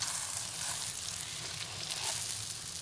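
Ukrainian cheese fries in a pan with a steady, close, broadband sizzle and crackle that holds evenly throughout, with no talking.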